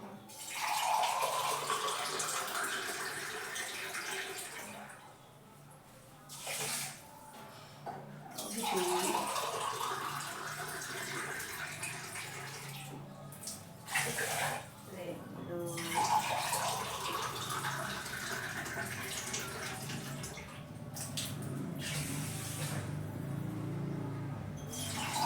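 Water poured into a cooking pot for rice, a running, splashing pour that swells and fades in several bursts over the clip, with someone talking intermittently alongside.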